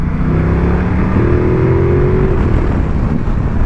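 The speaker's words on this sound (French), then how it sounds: "La moto gronde, rugit." A Ducati Multistrada 1260 S Grand Tour 2020 motorcycle engine rumbles steadily and loudly at low revs, a deep continuous drone with a slight rise in pitch partway through, no voices over it.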